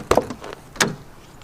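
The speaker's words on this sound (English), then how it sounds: "we'll go ahead and pop open this door and show you around there" A door on a high-mileage BMW E39 sedan pops open with a couple of sharp latch clicks, followed by a softer mechanical clunk a moment later, close and fairly quiet.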